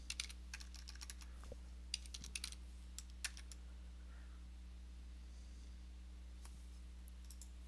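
Keys clatter on a computer keyboard as a web address is typed into a browser: sparse, light keystrokes in short bursts, fairly faint over a steady low electrical hum, with no talking.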